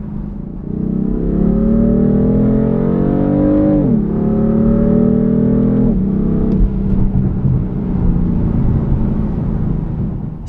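A 2015 BMW M3/M4 engine and exhaust roar loudly from inside the car while it accelerates, with rising engine pitch, two gear-shift drops, and a steady drone after the last shift, and no talking.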